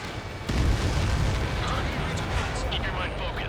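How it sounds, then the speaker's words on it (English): Missile launch in Ace Combat 7: Skies Unknown, a sudden loud whoosh-like burst that then sustains as a dense, roaring rush with faint radio-style chatter over it. "Missile launch."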